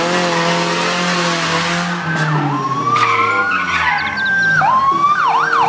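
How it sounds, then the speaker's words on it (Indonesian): A toy police patrol car's electronic siren wails loudly and steadily, its pitch sweeping up and down in repeated rising and falling cycles with no talking. "ini mobil patroli polisi"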